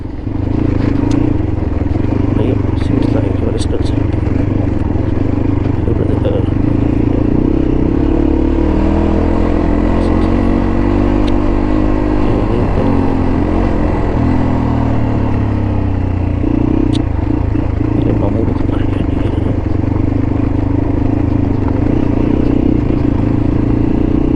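A motorcycle engine drones steadily and loudly while riding uphill on a mountain route, with a continuous low rumble, shifting pitch as the throttle is opened, and occasional clatter and wind noise throughout.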